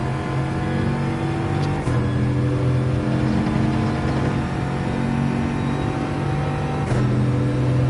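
Bugatti Veyron engine in Gran Turismo 7 at the Red Bull Ring, a loud sustained rev that climbs steadily in pitch, broken by two brief dips as gears shift, steady and close throughout.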